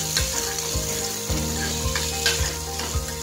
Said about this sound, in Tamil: நல்லா வெங்காயம் வந்து வதங்குற வரைக்கும் எண்ணெயில் நல்லா வதக்கணும்